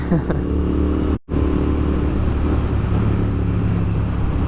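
A Royal Enfield GT 650 motorcycle fitted with an AEW 103 exhaust drones steadily on an early-morning highway, with wind rush over a deep engine note and one brief dropout.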